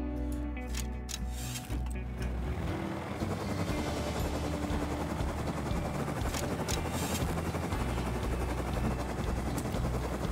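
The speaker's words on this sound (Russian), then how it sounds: "Коптер! Коптер!" A helicopter in the game Rust flies nearby with a loud, continuous rotor thrum and engine whine that holds steady throughout, with no speech.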